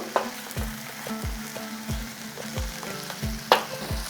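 Rice is stirred and fried in a pan, with a steady sizzle broken by repeated scraping strokes of the spoon about every half second and a sharper clank near the end.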